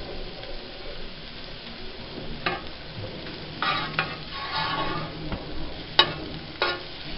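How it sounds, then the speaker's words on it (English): Butter sizzling in a hot frying pan while banana pancakes are laid in, a steady close crackle with soft scraping and stirring sounds and a few sharper pops. "just put some butter on the pan and start laying my pancakes on them"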